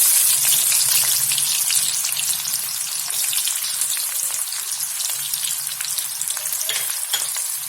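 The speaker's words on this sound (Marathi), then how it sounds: "आणि या कांद्याला छान परतून घ्यायचं।" Chopped onion sautés in hot oil with crackling mustard seeds and cumin, a steady bright frying sizzle that holds loud and close throughout, with faint stirring scrapes and no voices.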